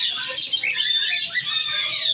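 Small birds at a bird market chirp and twitter in a continuous high chatter, several calls overlapping at moderate loudness.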